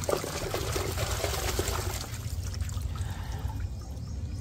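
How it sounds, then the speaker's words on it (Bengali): Homegrown spinach is washed in water to remove soil, with a continuous splashing and trickling rinse that thins out toward the end. "ভালো করে পরিষ্কার করে ধুয়ে নেওয়া হবে"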